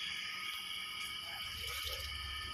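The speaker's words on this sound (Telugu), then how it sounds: "శుభ్రంగా నీట్గా వాష్ చేయడం జరుగుతుంది" Tap water runs steadily while items are washed clean, a constant gentle splashing close by with no talk over it.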